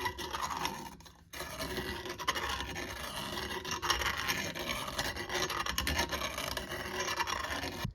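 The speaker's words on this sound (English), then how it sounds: "I'll deburr this edge here by using this tool here" A handheld deburring tool with inner and outer blades scrapes along the edge of a metal cup holder part for a 1934 Chevy hot rod utility, giving a steady, close rasping scrape that runs nearly continuously with one brief pause.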